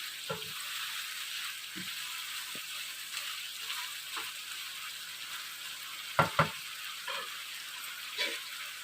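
Tomato chicken curry simmers gently in a pot on a low flame with a faint, steady sizzle, broken by a few soft clicks and taps, including a pair of louder knocks near the end.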